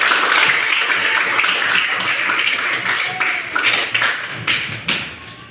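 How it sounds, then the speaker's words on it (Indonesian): A classroom of students applauding in a school science lesson, a loud burst of rapid clapping that gradually thins and fades, with a few sharp taps standing out near the end. "Tepuk tangan untuk kita semuanya."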